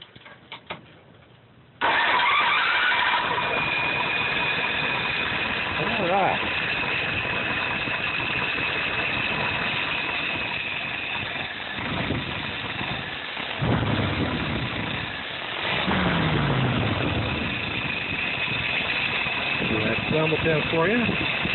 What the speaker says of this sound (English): now we're going to go ahead and do that warm restart for you